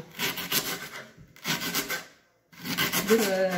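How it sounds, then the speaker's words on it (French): A knife finely slices four leeks on a cutting board in three separate bursts of quick, crisp rasping strokes, close and fairly quiet, with short pauses between them. "nous allons donc couper, émincer 4 poireaux"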